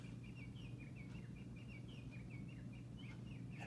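A bird clock goes off with a run of repeated chirping bird-song notes, faint and steady over a constant low hum.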